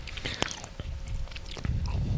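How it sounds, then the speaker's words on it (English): Gummy bears are chewed close to a microphone, with sharp wet bites and squishy chewing in an uneven rhythm over quiet room background, a few sticky clicks standing out. "We're just chewing on gummy bears right now."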